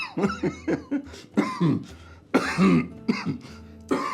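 Someone coughs several times in short, harsh bursts, close by, with a hint of laughter mixed in.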